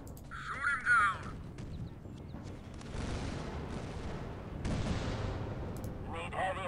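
Gunfire and heavy artillery-like booms erupt in the video game Warfare while an enemy is being shot down. The bursts are fairly faint and irregular, with a few electronic effect sounds around them.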